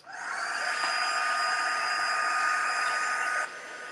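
A hair dryer or heat tool blows steadily on mixed media canvas pieces, a constant close airy hiss that runs for several seconds, then drops slightly in level near the end.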